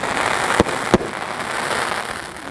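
Sivakasi firecrackers going off outdoors, heard as two sharp cracks close together early on, set against a steady hiss and crackle of background noise.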